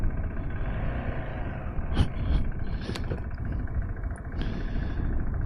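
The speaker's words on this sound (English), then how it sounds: "There's a motorcycle coming." A motorcycle on a road near Valley of Fire rumbles past with a steady low engine drone under broadband road and wind noise, with a few brief sharp clicks along the way.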